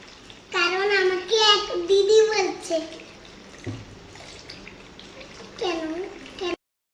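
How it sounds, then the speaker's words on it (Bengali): A young girl splashes and plays with water, a steady close wash of running, sloshing water underneath bursts of her high voice talking and squealing, which fall away near the end. "তারপরে এসে তুমি এখন জল ঘাটাঘাটি শুরু করে দিছো"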